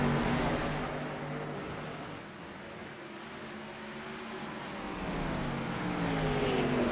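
Race cars lapping a dirt oval track, their engine drone faint and distant, swelling and fading as the cars pass, with no voices over it.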